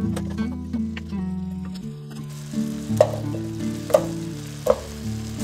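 Beef and garlic stir-fry in a stainless pot with a soft, close sizzle, broken by several sharp taps and scrapes from stirring, over a faint tonal background.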